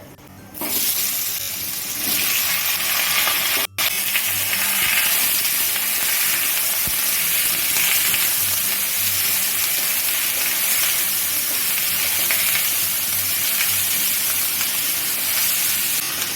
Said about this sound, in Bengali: ফোড়নটা ভাজা হয়ে গেলে কেটে ধুয়ে রাখা শশাগুলো দিয়ে দেবো